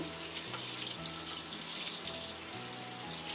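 Two spoonfuls of butter melt in a hot pan for a wedding-style shahi roast, giving a steady, dense sizzle and crackle close by with a faint rhythmic hum underneath and no speech.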